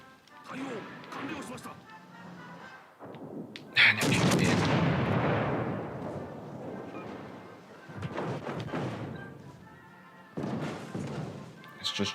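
Torpedo launches from a warship in World of Warships: Legends, heard as a heavy thump followed by a long, loud rushing burst, with further booming shots and a voice talking around them.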